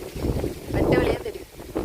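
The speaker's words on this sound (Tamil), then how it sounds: "காற்று எந்த அளவு அடிக்குது பாருங்க" Strong wind gusts roar across the microphone outside a house whose tree branches have been cut back, a loud broadband rush that swells and eases over a couple of seconds.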